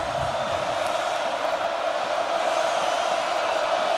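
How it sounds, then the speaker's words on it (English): Stadium crowd at Kinnick Stadium building a loud, sustained roar for the Iowa defense during an Oregon at Iowa college football game, a dense steady wall of noise with no distinct voices. "Kinnick crowd trying to get loud for their defense."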